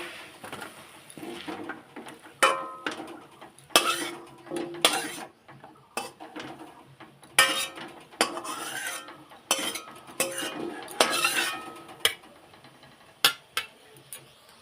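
Cooked mashed-vegetable mixture being scraped and spooned off a pan onto a plate in a home kitchen, a run of irregular metallic clinks and scrapes of utensil on cookware, fairly close, with no talking.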